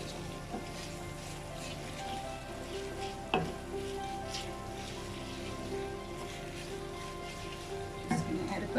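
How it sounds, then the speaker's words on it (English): A bolognese sauce sizzles steadily in a pan while being stirred, a continuous crackling hiss with occasional scrape and clink accents, close and fairly even in level. "Going to give this a mix."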